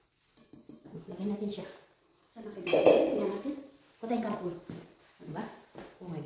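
Metal frying pans and plates salvaged from a dumpster in Sweden clank and knock together while being handled, in sharp irregular bursts, with someone talking over and between the clatter.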